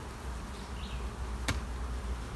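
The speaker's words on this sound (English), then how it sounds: "So now I've got a brood chamber here full of bees going right across." A steady, low hum of honey bees massed in a hive's brood chamber fills the clip, buzzing close by, with one brief sharp click partway through.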